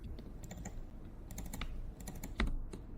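Computer keyboard keys pressed in quick irregular taps, including a Ctrl plus backspace combination, faint and close with no talking.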